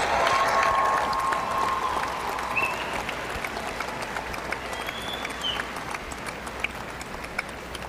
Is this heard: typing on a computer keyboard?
no